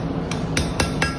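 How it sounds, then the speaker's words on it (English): A blacksmith hammering hot, fluxed chain links to set a fire weld, with four sharp, ringing metal strikes at an even pace, close and loud with no talk. "Setting this weld now, nice and hot."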